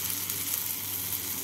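Onion, tomato and spice paste frying in a pan, a continuous close sizzle with a soft bubbling texture and a low hum underneath.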